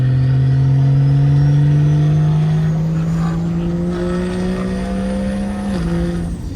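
A loud, deep car engine with a straight-pipe exhaust revs steadily with a raw, rumbling tone that climbs slowly in pitch, then briefly dips near the end.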